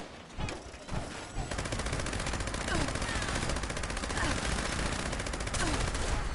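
Sustained automatic gunfire in Fallout 76, a dense, steady rattle of rapid shots that runs almost nonstop after the first second, loud and close.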